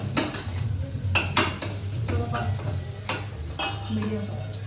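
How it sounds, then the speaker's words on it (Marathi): Chili and ginger-garlic paste frying in a pan on a gas stove, with a steady low sizzle under repeated clinks and scrapes of a spoon stirring against the pan. "आता आम्ही मिरची आणि आलं लसूणची पेस्ट आम्ही हे करतोय, फ्राय करतोय."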